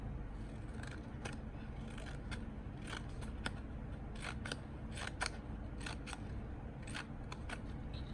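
Scissors snip through green and shiny paper for a craft project, a run of quick, close, crisp cuts in an irregular rhythm against a quiet background.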